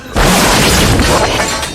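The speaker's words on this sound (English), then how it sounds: "Rocket launcher. Rocket launcher." A sci-fi rocket launcher fires with one loud, booming explosion that hits sharply and then rumbles on as a broad, sustained blast, close and with no talking.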